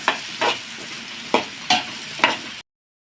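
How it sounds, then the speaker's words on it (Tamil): Curry leaves sautéing in a pan for a goat head curry, stirred with four or five distinct scraping, sizzling bursts over a low background crackle, close and fairly loud, then cutting off abruptly. "இப்போ இந்த கருவேப்பிலையை சேர்த்துக்கலாம் உள்ள சேர்த்து நல்லா வதக்கிடுவோங்க"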